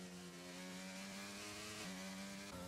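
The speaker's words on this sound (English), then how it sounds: "one of the engines struggling there" A race car's struggling engine in a racing video game drones steadily with a rough, buzzing tone that dips in pitch briefly, faint and continuous without talk.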